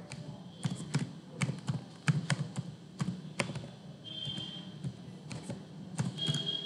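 Computer keyboard keys tapped out in a quick, uneven run of soft clicks while a password goes in, close and fairly quiet, with no one talking.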